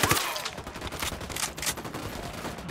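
Dense, rapid gunfire from a Ghost Recon Wildlands firefight, a continuous burst of overlapping shots with a loud opening crack, rattling steadily throughout.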